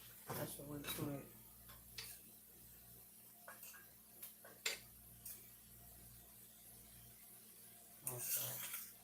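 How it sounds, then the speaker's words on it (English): Brown rice stirred in a pot, with faint scrapes and light clinks of a utensil on the pot, scattered and quiet under a low steady hum, with a louder clatter near the end. "I'm going to stir this rice up"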